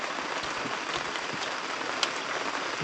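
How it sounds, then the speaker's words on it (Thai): Steady rain falls through the night at a fishing spot, a continuous even hiss with no breaks, close and fairly loud. "ฝนตกต่อเนื่องเลย"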